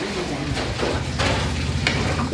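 Close, continuous scraping and sizzling as mutton biryani rice is stirred in a large pot for about 300 people, with occasional clinks of a utensil against metal.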